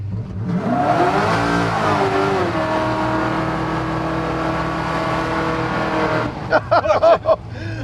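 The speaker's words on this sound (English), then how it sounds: "a 600 horsepower truck that does hella burnouts" A 630-horsepower big-block Chevrolet C10 pickup roars loudly at sustained high revs during a burnout, a harsh, steady blare for several seconds, then cuts out as a voice exclaims.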